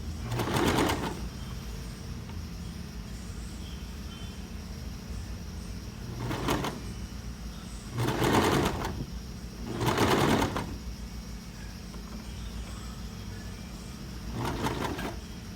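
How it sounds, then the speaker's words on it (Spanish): A home sewing machine stitches a blouse seam at a slow pace in several short bursts of whirring, with pauses in between, over a steady low room hum. "Lo hacemos despacio, ¿ya? Y empezamos a coser."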